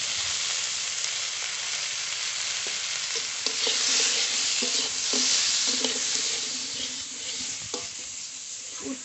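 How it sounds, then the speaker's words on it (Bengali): Bitter gourd frying in a pan with turmeric and salt, giving a steady close sizzle broken by repeated scrapes and clinks of a spatula stirring, with no talking. "উচ্ছে দেওয়ার পরে বেশি ভাজবো না, হালকা করে ভেজে নেব"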